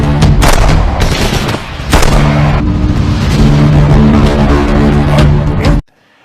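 Loud booming blasts and gunfire-like bursts in a rapid cluster, close and heavy, cutting off abruptly at the end.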